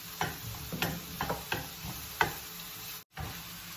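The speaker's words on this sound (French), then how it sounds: "Je vais laisser un peu que mes oignons cuisent avant d'y ajouter les autres légumes" Onions cook in a pan with a soft sizzle, broken by a series of light, evenly spaced ticking stirs close by, in a quiet kitchen with no talking.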